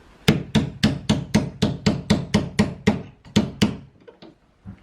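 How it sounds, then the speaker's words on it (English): Someone hammers during home renovation work, a dozen sharp, evenly spaced blows landing in a steady rhythm, loud and close, then tapering into a few lighter taps. "He's still hammering"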